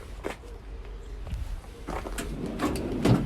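A super long drawer slides along its runners in the rear work area of a 2015 Land Rover Defender 130 2.2 TDCi mobile workshop, with a few soft knocks and clunks, close and fairly quiet.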